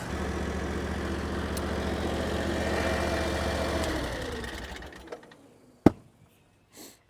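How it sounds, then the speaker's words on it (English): Engine of a Chinese skid steer loader running steadily, then winding down and cutting out, followed by a single sharp backfire pop and a faint trailing sound in the near silence. "Ooh, a little backfire."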